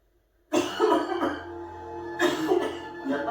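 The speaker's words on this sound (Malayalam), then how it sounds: "എന്താ തിരുമേനി ഒരു ചുമ?" A man, addressed as a priest, coughs and clears his throat in a few rough bursts, close and fairly loud, with a short gap between fits and no talk.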